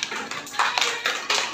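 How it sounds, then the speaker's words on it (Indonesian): Children clapping their hands in an Indonesian school classroom, a short burst of scattered, uneven claps at moderate loudness that swells in a few quick waves. "Coba tepuk tangan untuk Fatir."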